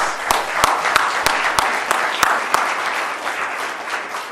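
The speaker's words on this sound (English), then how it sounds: "I think you all need to give yourselves a round of applause." A church congregation applauds together, a steady wash of many hands with a few sharper, louder claps standing out at regular moments across the whole stretch, fairly close and full.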